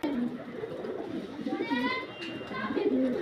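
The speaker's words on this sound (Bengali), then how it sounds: "দুটোই সারামপুরি পায়রা, এই পায়রা দুটো।" Serampore pigeons, a male and a female, cooing close by in soft, throaty rolling calls, with some faint background chatter and bird noise mixed in.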